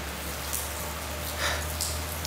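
Steady rain falls in a soft, even hiss with faint patters on a surface, continuous and quiet with no voices.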